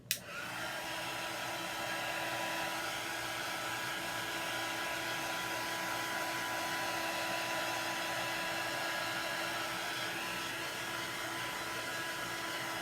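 Hair dryer blowing on a painted rustic Halloween sign, switching on with a click and then running as a steady, close, loud whooshing whine with no talk.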